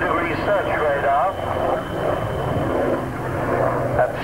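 A Rolls-Royce GEM-engined naval helicopter fitted with nose search radar passes at an air show, a rough rotor and engine roar heard at a distance under continuous announcer commentary.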